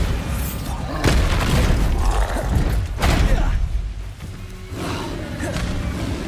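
Booming spell explosions from Bombarda in the game Hogwarts Legacy, loud and continuous with repeated heavy thuds and whooshes over a dense rumbling battle.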